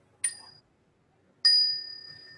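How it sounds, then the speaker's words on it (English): Two strikes of a small meditation chime ring out clearly in a quiet room, the first brief and the second sustaining with a slowly fading shimmer. "I use a little chime here, a bell,"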